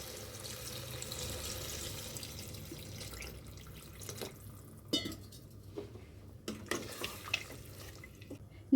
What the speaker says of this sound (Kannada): ನೀರು ಹಾಕ್ತಾಯಿದ್ದೀನಿ ಇವಾಗ.